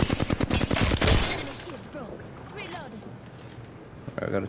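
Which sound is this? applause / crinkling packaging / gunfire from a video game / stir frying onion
gunfire from a video game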